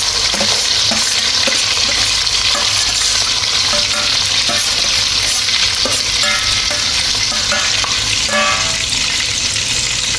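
Onions sizzle and crackle in hot oil in a karahi, with an egg-and-tomato dish under way; a steady, loud frying hiss runs throughout, broken by scraping stirs, close up and with no voices.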